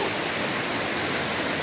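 A waterfall on a jungle river pours as a steady, dense roar of rushing water, loud and unbroken throughout, with no voices over it.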